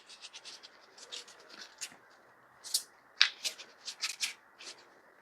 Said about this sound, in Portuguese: Vou tentar embaralhar mais alto para vocês verem.